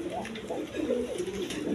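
A breeding pair of pigeons with eggs and chicks coos in repeated low, burbling phrases close by, with no clear voices.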